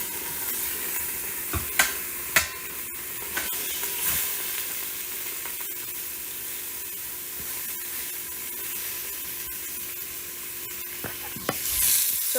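Beef chunks sizzle and fry in an Instant Pot while being pushed and spread out with a spatula, a steady hiss under occasional sharp scraping clicks, close and moderately loud.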